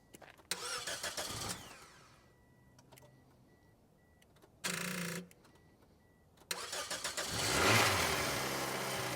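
A small car is jump-started with an AVAPOW portable battery pack: a burst of starter cranking, a short second crank, then the engine catches and revs loudly before settling into a steady run.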